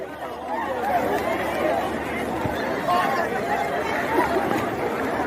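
Crowd at a Nigerian political rally, a continuous babble of many overlapping voices at moderate distance, steady and unbroken throughout.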